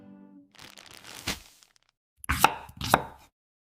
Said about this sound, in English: I cut the onions.